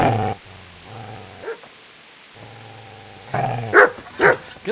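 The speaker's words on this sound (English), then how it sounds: "Get away, you mutt!" A dog in Kingdom Come: Deliverance gives low rumbling growls, then several sharp, loud barks close by near the end, with no talking over it.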